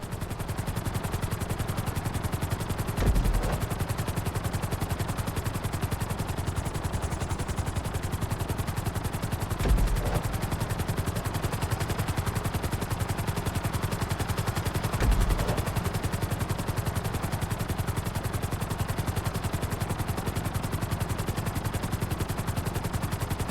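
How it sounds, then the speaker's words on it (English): Helicopter in GTA 5 flight school, a steady continuous rotor drone with a dense low thump running throughout, loud and unbroken, with a few brief sharp knocks and no talking. "Bring the helicopter down gently onto the helipad."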